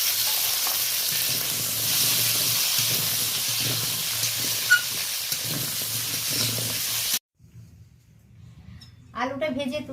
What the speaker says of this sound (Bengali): চিংড়ি মাছ ভাজার পরে অল্প তেল দিয়ে আলুটা একটু ভেজে নেব।